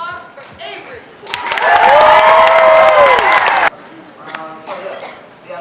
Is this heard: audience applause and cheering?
yes